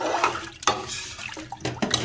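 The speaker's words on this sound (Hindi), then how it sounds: "जितना हमें चाहिए तो उतना हमने पानी डाल दिया है" Water pours into a pressure cooker while chicken vegetable soup is being made, a close, steady splashing rush with a few sharper sloshes and no talking.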